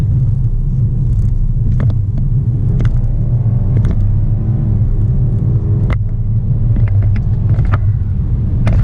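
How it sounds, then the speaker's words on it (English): A 2018 BMW 330i xDrive in Sport Plus mode gives a steady deep engine rumble from inside the cabin as it accelerates, with faint clicks and bumps over the road and no talk. "See, just like that, it's a nice crisp acceleration."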